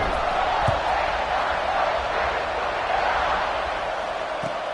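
A stadium crowd at an OSU college football game murmurs and roars in a steady broad wash before the kickoff, distant and diffuse, with a couple of faint thuds beneath it.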